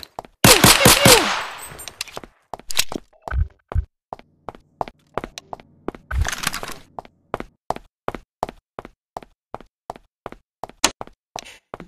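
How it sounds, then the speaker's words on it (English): A laser gun in Garry's Mod fires a rapid opening burst of close, sharp blasts, then a long run of evenly spaced single shots with another dense burst midway. "I got a laser gun."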